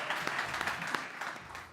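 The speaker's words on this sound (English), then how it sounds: "Big round of applause, please." A conference audience gives a brief burst of applause at a startup summit stage. The clapping is dense and mid-distance, fading slightly toward the end.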